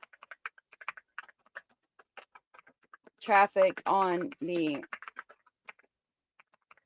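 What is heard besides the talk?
typing on a computer keyboard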